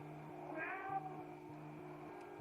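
A cat meows in a drawn-out call lasting about half a second, fairly faint over a steady low electrical hum, with no talking.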